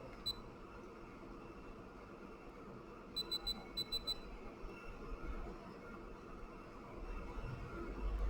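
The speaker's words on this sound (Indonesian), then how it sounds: "Tekan sekali kalau dia beep sekali, itu tandanya hidup dengan mode rendah." An LG Puricare mask-style air purifier gives a short burst of quiet, high electronic beeps when its button is pressed, faint against a steady background hiss.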